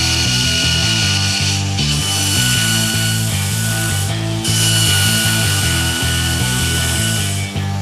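Grinder working excess steel off a forged knife blank, a steady, loud abrasive whine with shifting tonal bands and brief dips as the tool is lifted and reapplied, no voices present.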